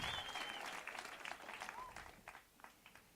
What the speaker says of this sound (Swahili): Iko wapi makofi ya Project Liam?